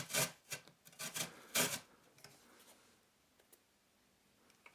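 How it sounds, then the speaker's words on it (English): Quick rasping strokes come from a carrot being grated on a large box grater. A burst of close scraping is followed by a few fainter scrapes, and the clip then trails off into near quiet. "We can do some grating"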